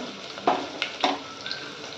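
Onion frying in a hot pan for a home-style chicken rassa, with a steady sizzle broken by a few scraping stirs of a spoon, close by with no talk.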